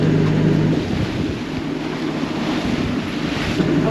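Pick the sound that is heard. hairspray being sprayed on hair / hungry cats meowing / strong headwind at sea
strong headwind at sea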